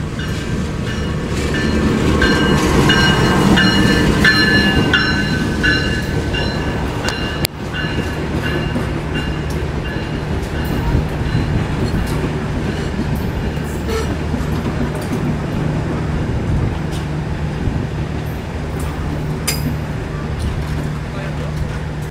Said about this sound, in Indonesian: Ini ada kereta api komuter lain Supas masuk. Mari kita saksikan.